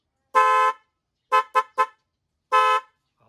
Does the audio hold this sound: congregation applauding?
no